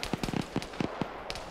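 A quick volley of sharp handgun shots in the Arma military game, a string of dry cracks in fast irregular succession, fairly close and loud with no talk over them.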